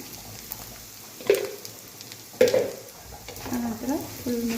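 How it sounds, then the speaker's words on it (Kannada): Pearl spot (kuchlakui) fish frying in a pan with chili powder, a steady low sizzle broken by a few sharp clattering stirs and scrapes of a spoon against the pan. "ಮೀನು ಚೆನ್ನಾಗಿ ಫ್ರೈ ಆಗಿದೆ"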